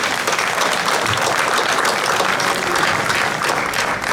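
An audience claps after a speech, a loud, dense, steady round of applause that carries evenly from start to finish with no talking over it.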